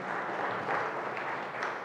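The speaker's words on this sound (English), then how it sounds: "deserves a round of applause" Brief applause from an audience at a university inaugural professorial lecture, a short, even patter of clapping lasting under two seconds.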